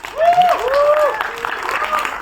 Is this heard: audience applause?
yes